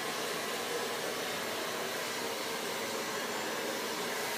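A salon hair dryer fitted with a nozzle blows steady, close, loud airflow while drying hair, a continuous broadband whoosh with no talking.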